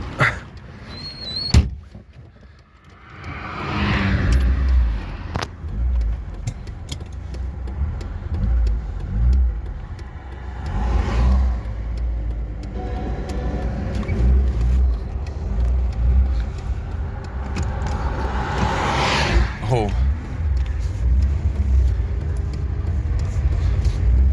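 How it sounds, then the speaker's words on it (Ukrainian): A car drives past on a road near a tractor, its engine swelling and fading over a continuous low tractor rumble, with a clunk near the start. "машину пропустимо"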